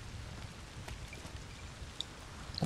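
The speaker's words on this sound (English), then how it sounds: "Because it's raining?" Steady video game rain patters and hisses softly, with occasional louder drops landing close by.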